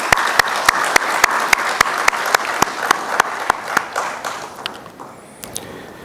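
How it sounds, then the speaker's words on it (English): An audience at an AI summit applauds, with sharp evenly spaced claps standing out over a bed of crowd clapping, the steady rhythm tapering off and thinning to scattered claps near the end. "Round of applause for them."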